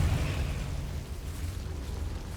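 Confringo blasting spell going off in Hogwarts Legacy, a muffled low rumbling boom that dies away into a dull roar, fairly quiet.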